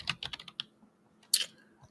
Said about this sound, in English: I'm pretty sure I'm typing these out of order